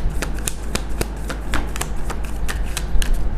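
Tarot cards are shuffled and drawn by hand, making a rapid run of crisp, close riffling flicks and slaps with a low steady hum underneath.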